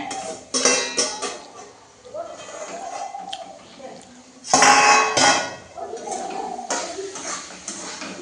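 Cooked bitter gourd being stirred in a metal pot, with scraping clanks and knocks of the utensil against the pot, close by, while people talk.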